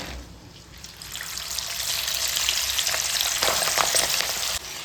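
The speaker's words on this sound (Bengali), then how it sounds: "এখন ওই কড়াতে থাকা একই তেলের মধ্যে মটরগুলোও আমি ভেজে নেব।" Peas fry in hot oil in a kadai, a close, steady crackling sizzle that swells and grows brighter partway through, then cuts off abruptly near the end, with no voices.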